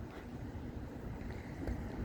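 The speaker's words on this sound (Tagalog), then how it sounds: "Mahangin po." Strong, cold wind outdoors buffeting the microphone, a constant low rushing roar with gusty swells across the whole stretch and no talking.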